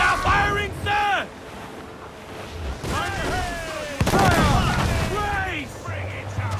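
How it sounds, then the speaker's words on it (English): In Assassin's Creed IV Black Flag, an enemy sailing ship fires its cannons in heavy booms and rattling volleys over the sea, while crew members shout loudly throughout. "They are firing, sir!"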